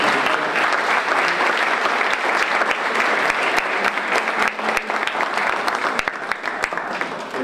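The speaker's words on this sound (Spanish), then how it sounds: "démosles un fuerte aplauso." Audience applause at a Costa Rica 2018 vice-presidential candidates forum: loud, sustained clapping from a hall full of people, with sharp individual claps standing out near the end.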